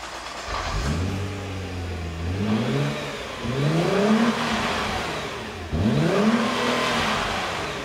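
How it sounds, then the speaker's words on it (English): A 2013 Nissan GT-R's engine catches and then pulls hard, its loud, close note climbing in pitch three times in a row like upshifts under acceleration, with a steady road roar and no talking. "I'm going to go ahead and hop in, start it up, and we're going to go for a ride"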